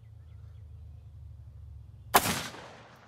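A single sharp gunshot fired at a log outdoors cracks close and loud after a stretch of quiet low rumble, then trails off in a brief decaying echo.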